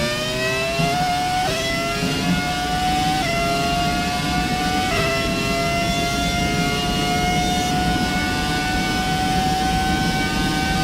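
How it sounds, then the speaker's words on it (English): A V10 Formula 1 engine in the F1 2017 racing game screams at high revs, its rising whine broken by several sharp gear shifts, loud and continuous with no talk over it. "enjoying the roaring sound of this V10 engine"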